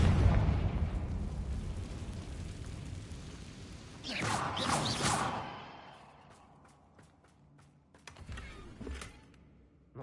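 A Confringo blasting spell detonates in the game Hogwarts Legacy. After a low rumble, a loud crackling burst lasts about a second and then trails off, followed by scattered faint clicks and taps.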